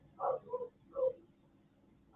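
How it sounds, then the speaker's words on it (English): A few faint, muffled dog barks from somewhere indoors, coming in short separate bursts with quiet gaps between them. "I hear dogs barking."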